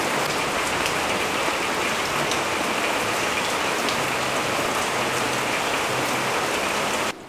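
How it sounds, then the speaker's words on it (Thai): Steady rain falls in a dense, even hiss of drops hitting surfaces, loud and close throughout with no voices, then drops away abruptly at the very end. "ตอนนี้ฝนก็ตกนะครับ"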